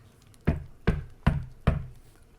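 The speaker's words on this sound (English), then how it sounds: "The knocking came back harder than before." Four evenly spaced, hard knocks on a wooden door, used as a sound effect in a scary story; close, heavy, with short decays and quiet between them.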